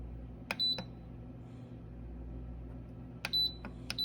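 An electric pressure cooker being set in a kitchen gives two short bursts of bright electronic beeps, each a quick pair of tones, separated by a quiet pause over a low background hum.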